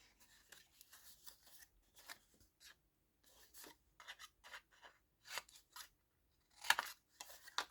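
Scissors snipping the corners of a handmade spring basket at a bevel, a series of short crisp cuts in irregular bursts with pauses between, close and clear with no talk.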